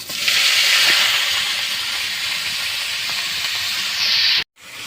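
Green chili and nigella seeds sizzle loudly in a frying pan, a steady dense hiss lasting several seconds with a brief surge near the end before cutting off abruptly.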